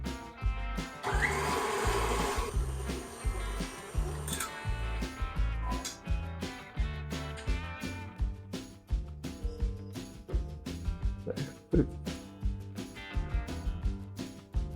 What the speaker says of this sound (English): turn your mixer on and mix these until they cream together